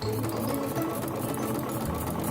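A sewing machine runs continuously, stitching a ruffle at a long stitch length of 6, with a steady, close, even mechanical whir and no pauses.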